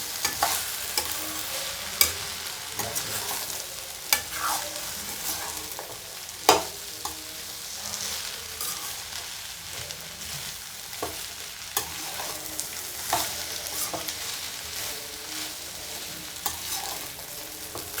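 Okra frying in a pan with dried red chillies and a little oil, a soft continuous sizzle broken by sharp scraping clicks of a spatula stirring at irregular intervals.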